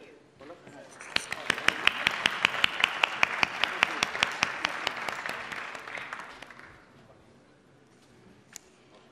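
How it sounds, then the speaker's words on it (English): Audience at a grand opening ceremony in Amsterdam claps as speakers walk to the stage, crisp individual claps building to steady applause that fades out after several seconds, moderately distant. "please join me in a round of applause as we speakers walk to the stage."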